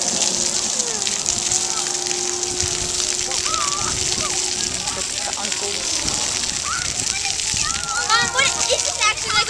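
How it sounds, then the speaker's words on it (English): Water sprays and splashes continuously at a play park splash area, a broad hissing wash of sound under children's voices and adult chatter close by. "They have a little water splash area."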